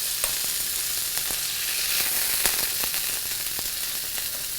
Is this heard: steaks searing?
yes